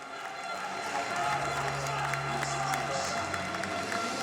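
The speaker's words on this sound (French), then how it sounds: "On peut les applaudir encore pour les deux." Crowd at a combat sports fight night applauds the two fighters, a steady wash of clapping and cheering from a large hall, with a low hum running underneath.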